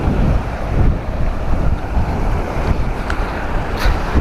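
Rough ocean waves on the beach at Aceh Selatan, a loud, continuous roar of surf churning close by with heavy wind buffeting the microphone throughout.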